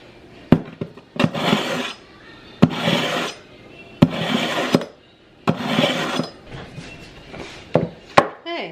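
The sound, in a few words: knife being sharpened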